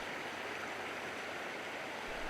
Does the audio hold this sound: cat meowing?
no